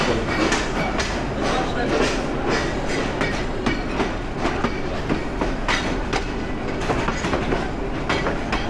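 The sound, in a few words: busy railway station with Balaka commuter train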